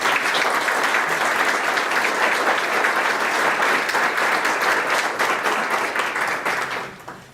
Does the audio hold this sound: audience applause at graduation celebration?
yes